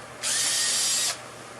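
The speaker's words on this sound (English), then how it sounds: "The electric drill just punched right through there." An electric drill whines loudly for about a second in one short burst as it punches through metal on a Kubota MX5400 tractor brush guard, then stops, leaving quiet background.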